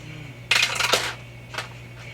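Dice roll and clatter across a table during a tabletop role-playing game, a bright rattling burst followed by a second, shorter clatter a moment later.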